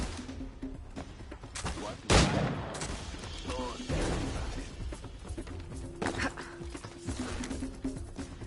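Ranged-weapon gunfire in the video game Assassin's Creed Liberation, a sharp loud shot with scattered impacts and thuds over a busy game background, with little talk.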